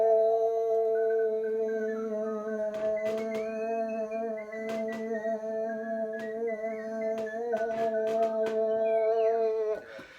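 A sung fundamental with a layered whistling overtone above it, a simulated overtone-singing effect, holds one steady drone for about ten seconds while the high whistle-like tones waver and shift; it is loud, close and has no talk over it.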